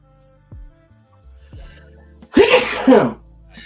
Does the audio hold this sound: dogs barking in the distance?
no